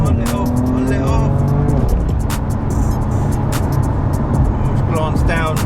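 A BMW M4 CS with a Stage 1 tune launches hard on a drag run with traction control off, its engine roaring loud and close through rapid upshifts, tires briefly squealing, with a driver talking over it.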